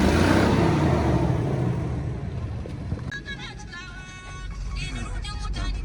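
A Toyota Tundra truck engine revs loudly up close, a heavy continuous rumble that swells and rises in pitch before settling into a steady roar.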